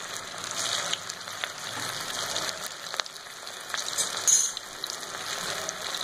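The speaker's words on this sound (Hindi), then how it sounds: "देखिए ऑयल यहाँ पर गर्म हो चुका है और अब हम यहाँ पर फ्राई कर लेते हैं इन बॉल्स को।" Rice croquette balls stuffed with cheese, two or three at a time, frying in hot oil over a medium flame, giving a steady soft sizzle and crackle with scattered pops throughout, fairly quiet and without talk.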